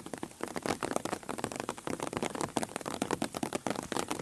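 Rain pelts down at a farm in the hot, muggy late afternoon, a dense crackling patter of close drops hitting surfaces in a steady, moderately loud stream.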